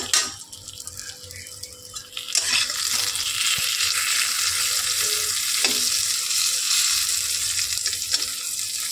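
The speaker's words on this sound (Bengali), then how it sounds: "এদিকে পটল ভাজা হচ্ছে" Pointed gourd sizzles and fries loudly in a hot pan, starting quieter and then crackling steadily, with faint stirring clatter.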